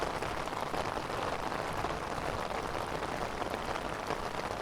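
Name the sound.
rain falling on a city street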